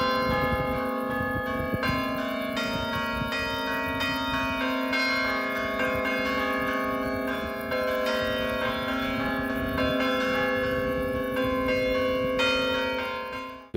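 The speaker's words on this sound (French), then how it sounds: "c'est le rythme du carillon, et c'est ça qui traverse le village" Carillon bells in the village of Chandolin ring out in a rhythmic sequence of struck tones, sustained overlapping peals that resonate loudly and continuously with no voices.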